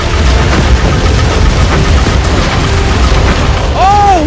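Rocket explosions hitting a mech in a chaotic video game battle, dense continuous booming and blasts with a whooshing sweep near the end, loud and close, while a person talks excitedly over it.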